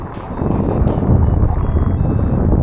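Loud, steady wind at sea roars and buffets the microphone, a heavy low rumble with gusts, no voices.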